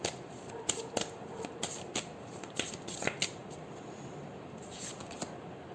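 Tarot cards shuffled and drawn from a deck, a soft continuous riffle and rustle punctuated by sharp, close card snaps and taps at an uneven rhythm, with no talking.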